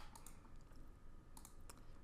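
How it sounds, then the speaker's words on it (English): Quick, light typing on a computer keyboard, a soft run of key clicks with a few sharper taps, heard close and quiet. "We can start typing in English"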